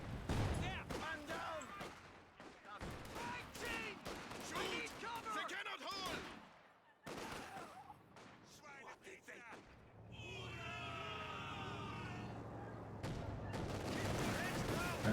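Rattling gunfire and machine-gun bursts crackle through a WWII strategy game battle over a capture point, sharp repeated shots mixed with a commentator speaking, then a sustained mechanical din in the final seconds.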